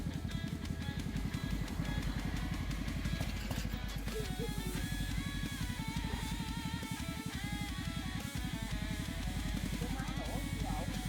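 A small two-stroke moped engine on a homemade walk-behind tractor chugs steadily nearby with a rapid, rattling putter, while people talk over it.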